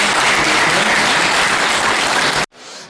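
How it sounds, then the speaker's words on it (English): An audience at a tech talk gives a presenter a steady round of applause, full and even throughout before cutting off abruptly near the end into a faint room tone. "give Jared a round of applause"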